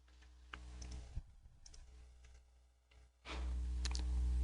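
Sparse computer keyboard and mouse clicks during AutoCAD drafting work, a few isolated taps near and quiet, followed by a louder steady low hum toward the end.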